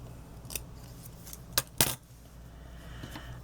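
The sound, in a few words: cutting green paper with scissors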